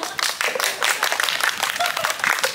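Brief burst of steady clapping from an audience at an Indonesian talk show, filling the moment with dense, even applause.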